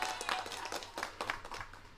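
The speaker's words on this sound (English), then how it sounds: "Give yourself a clap" A few hand claps land at irregular intervals during a casual live chat stream, sharp and moderately loud, sounding like one or two people clapping briefly.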